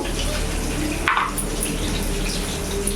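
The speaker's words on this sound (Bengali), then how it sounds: "একটু শিলটা ধুয়ে নেবো।" Water splashes and runs over a stone grinding slab (shil) being rinsed after grinding cashew-poppy paste, a steady close wash with one brief louder splash.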